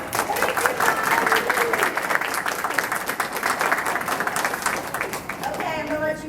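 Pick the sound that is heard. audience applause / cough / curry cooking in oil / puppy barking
audience applause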